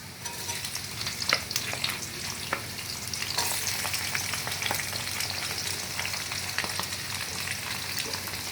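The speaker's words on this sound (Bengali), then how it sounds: "ওটা একটু হালকা ফ্রাই করে নেব।" Cubes of capsicum and onion frying lightly on a low flame in a small kadai: a continuous soft sizzle with scattered light stirring clicks and taps, close and quiet, with no talk.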